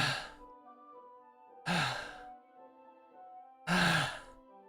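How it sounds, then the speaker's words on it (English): In the Doki Doki Literature Club Plus video game, three sharp, breathy inhales sound close and clear at evenly spaced intervals, with a faint low background tone between them. "A sharp inhale, like someone is sucking the air through their teeth."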